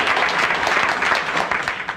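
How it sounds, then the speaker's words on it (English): A 1969 television talk-show studio audience applauds: steady, dense clapping from many hands that carries on evenly throughout, with no speech over it. "If you applaud, you only waste time that I could use talking to you."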